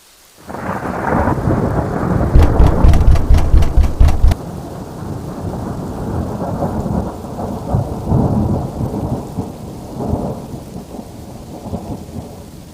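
Animated-story thunderstorm with heavy rain: a loud crackling thunder crash with rolling rumble over steady pouring rain, then the downpour continues alone with further distant rumbles.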